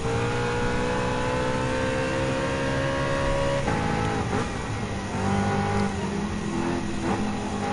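A Corvette race car in Gran Turismo 7 drives at speed with a loud, steady, close engine drone whose pitch shifts and dips as it changes gear partway through.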